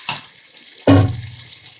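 Tomato juice pours into a pan in two short, splashing gushes, the second louder and longer with a sputtering sizzle that fades off; close and alone, no talk.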